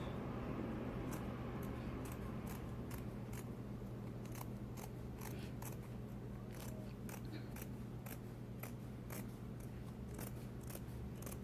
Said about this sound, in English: And now I'm actually cutting the halves into halves because it was a little bit too big. So I'm still cutting here.